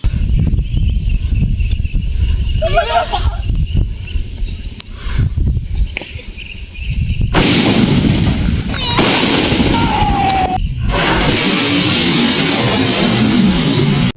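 Fireworks set off at a riverbank during a picnic with friends burst in several loud, sharp cracks and booms after a quieter stretch, each blast followed by crackling and lingering rumble.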